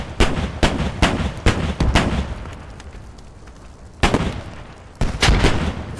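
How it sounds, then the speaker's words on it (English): A grenade blast and gunfire in the tactical shooter game Squad: repeated sharp, close gunshots in an uneven rhythm, with heavier explosive booms breaking in near the end. "It's like a good nade by Triggers."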